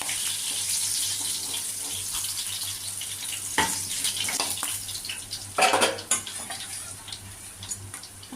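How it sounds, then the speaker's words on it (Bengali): Steady sizzling of bata fish frying in hot oil, with a low hum underneath and a few clinks and scrapes of a utensil partway through. "মাছগুলো আমি হালকা ভেজে নেব"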